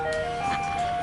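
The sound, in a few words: ice cream truck driving by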